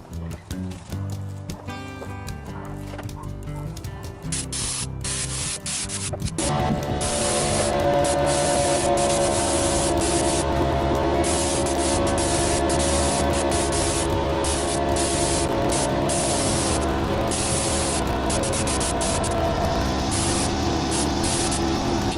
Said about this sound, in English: I can spray it a lot easier